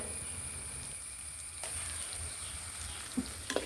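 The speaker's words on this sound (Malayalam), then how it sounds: "പിന്നെ ഇതെല്ലാം കൂടി നന്നായിട്ട് ഇളക്കിക്കൊണ്ടിരിക്കുകയാണേ" Turmeric, chili powder, Kashmiri chili powder and coriander powder sizzling in a pan for fish curry, a continuous close frying crackle with a couple of brief stirring scrapes near the end, no talk.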